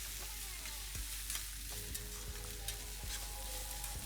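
Capsicum sautéing in hot oil with red and green chili sauce for veg Manchurian gravy: a steady, close sizzle broken by a few sharp spatula clinks and scrapes, with no voices.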